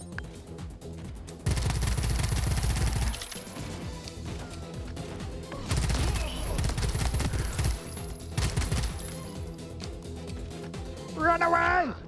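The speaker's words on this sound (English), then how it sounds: "So they're shooting fire." Guns shooting fire in the video game Pax Autocratica, with loud sustained bursts of fire in several waves against battle noise, while a person talks over the action.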